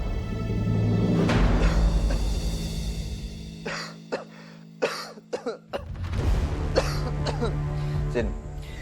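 Several harsh coughs burst out close up, some in quick clusters, with throat clearing and a background hum; a voice is heard briefly.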